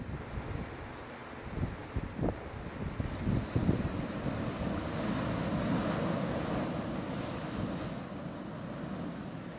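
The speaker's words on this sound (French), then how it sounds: "il y avait toujours au moins le bruit du vent ou de l'eau" Ocean waves wash against the shore of Flores island while wind rushes past, a steady low surf roar with a few louder breaking swells early on, no voices present.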